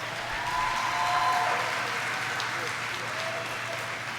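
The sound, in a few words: graduates applauding at graduation ceremony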